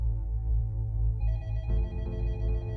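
An office telephone rings continuously with a steady electronic bell tone, close and loud, with no talk over it.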